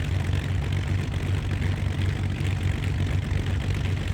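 Twin-engine propeller drone of a Beechcraft Baron 58 in the X-Plane flight simulator, heard through an open cockpit window: a steady, loud, low hum with a constant buzzing tone and no talk.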